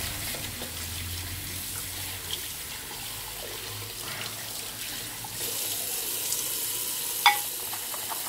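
Water runs from a tap into a shaving bowl as a soft continuous trickle and hiss, fairly quiet and close, growing slightly brighter toward the end with a small clink.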